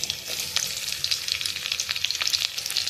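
Cumin seeds and garlic frying in hot oil for a dal tadka, a steady close crackling sizzle with sharp spitting pops throughout, no voices.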